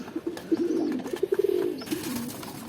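Pigeons kept as a pair with a hungry chick, soft close cooing notes rising into a short run of rapid throaty pulses, then fading among faint rustles, no talking.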